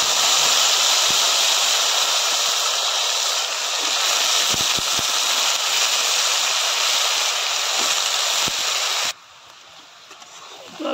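Lima beans hit hot oil over fried onions in a pan, raising a loud, steady broadband sizzle that runs for about nine seconds with faint scattered clicks, then abruptly drops to a quiet hiss.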